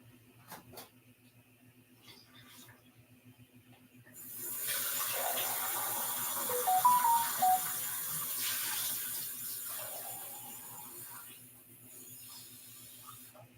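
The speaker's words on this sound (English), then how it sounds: "put a little bit of water, keep it going" A tap runs with a steady hiss and splash of flowing water. It starts a few seconds in after a quiet stretch, stays level for several seconds, then fades away, close by against a faint electrical hum.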